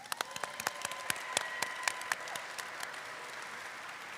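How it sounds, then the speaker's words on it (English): Audience applause at a Filipino American History Month community event, a burst of clapping from a modest crowd that starts sharply, with distinct individual claps standing out near the front, then thins and fades out over a few seconds. "Let's give everyone a round of applause."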